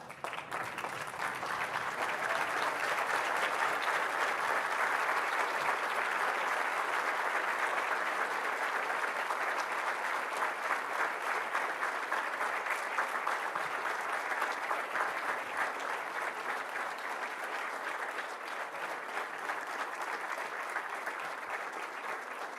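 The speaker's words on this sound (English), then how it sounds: "give a round of applause for your senior officers of the University of Liverpool" A university graduation congregation audience at Liverpool applauds the senior officers, a steady, dense wash of clapping from a large crowd that holds at an even level for over twenty seconds without a break.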